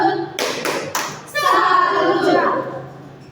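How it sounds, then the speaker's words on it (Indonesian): A third-grade class performs a rhythmic salute clap, with a few sharp, close claps in a pattern followed by children's voices chanting together. "Tepuk salut dulu untuk Ica dan Kelly."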